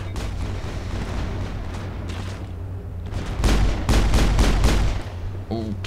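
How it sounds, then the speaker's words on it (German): A burst of loud gunshots in Mass Effect fires in quick succession over a steady background hum, ending with a short rattling mechanical sound. "Sorry, Shepard, aber es gibt keinen Preis für die meisten Schüsse."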